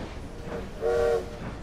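A train whistle or horn gives a short, steady tonal blast over low rumbling rail noise in Assassin's Creed Syndicate, in a Victorian London game setting.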